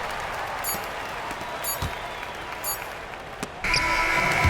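Arena crowd noise from an NBA 2K25 basketball game, a steady broad roar with scattered claps and occasional ball bounces, swelling louder near the end as cheering and applause rise.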